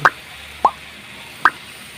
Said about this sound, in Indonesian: kita masukkan tempe yang sudah kita goreng tadi